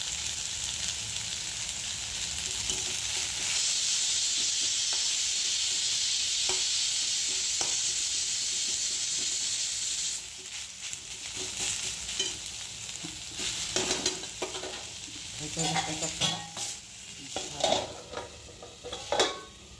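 Fenugreek leaves (methi bhaji) stir-fry in a pan with a steady close sizzle, followed by irregular scraping and clinking as a utensil stirs against the metal.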